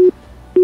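Phone line disconnect tone after a call is hung up: two short steady electronic beeps separated by a brief silence, loud and close, with no voices.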